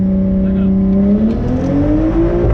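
A Subaru WRX engine revs under acceleration, a loud, steady drone whose pitch climbs gradually over a couple of seconds, close by and continuous.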